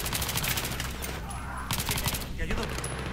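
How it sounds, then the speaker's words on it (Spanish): Rapid automatic gunfire in the shooter game Battlefield 3 from a P90, dense bursts filling the whole stretch at moderate loudness with a brief gap. "Ah, estoy escuchando tiros."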